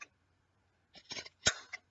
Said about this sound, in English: There are all these loops, and you're just going to cut the loops in half.